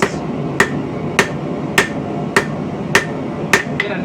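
A blacksmith hammers a steel taper on an anvil, with seven sharp, ringing metallic strikes landing at a steady, even pace about half a second apart, close by and with no talking.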